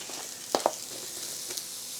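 Onions sizzle on a hot burger griddle, a steady hiss of frying with a couple of sharp spatula scrapes and taps over it, close and fairly quiet.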